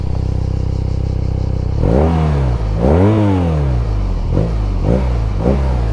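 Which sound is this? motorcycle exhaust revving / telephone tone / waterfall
motorcycle exhaust revving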